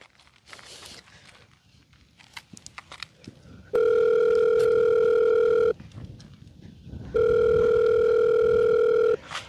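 Ringback tone from an unanswered telephone call: two long, steady electronic rings with a gap between them, following a few seconds of faint shuffling and movement.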